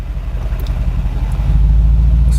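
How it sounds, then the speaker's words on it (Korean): A 2019 Mercedes-AMG G 63 Edition runs in Sport Plus mode. Its steady, deep exhaust drone swells louder and heavier partway through as the idle revs rise, and it is heard close up and alone. "이 RPM이 약간 좀 더 뜨면서 배기음도 좀 더 커지죠."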